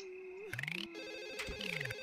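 Telephone in The Sims 1 ringing in bright, warbling electronic bursts, two rings in quick succession alongside soft game sound effects, with no talking.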